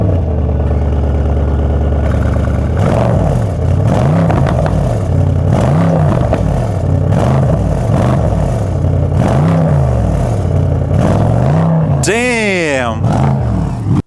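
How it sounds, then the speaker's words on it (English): A Mercedes S63 with a custom bolt-on stainless steel or titanium exhaust revs hard in repeated loud, close bursts, the engine roaring up and falling back in a steady rhythm, with a sharp rising whine near the end. "my favorite thing of this project is the sound, because we made the custom exhaust system"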